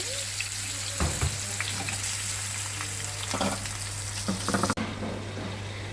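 Pomfret fries in hot oil with a loud, continuous close-up crackle and hiss, a few sharper spatters near the end, and a faint steady hum beneath.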